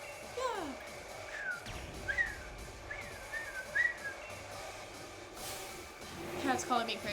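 A person whistles a series of short rising and falling tones in a quiet indoor setting, with occasional speech and soft background noise between the phrases.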